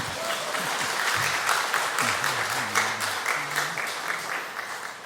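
A church congregation claps together after a hymn of praise, dense sustained applause filling the room for several seconds, with a low voice or organ tone faintly underneath.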